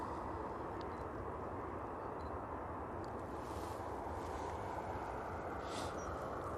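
Ryanair Boeing 737 departing Manchester Airport for Malta, a steady broadband engine roar held at even loudness throughout, fairly distant and heard alone without talk.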